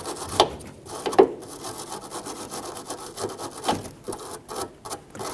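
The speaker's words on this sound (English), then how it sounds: "I'm gonna get a piece of sandpaper or even like a wire brush," Sandpaper or a wire brush scrubbing a hood lift support mount on a 1999-2004 Jeep Grand Cherokee, soft rasping strokes in an uneven rhythm, close but fairly quiet.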